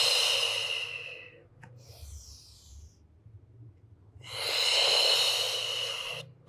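Two long, breathy exhales during a pilates spine mobility exercise, close and fairly loud, separated by a quieter stretch of room tone with a faint inhale and no speech.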